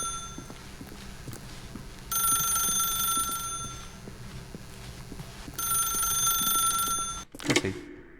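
Telephone in The Stanley Parable: an electronic ring sounds in two long bursts separated by a pause, over a steady ticking clock, and ends in a sharp clatter as the receiver is picked up.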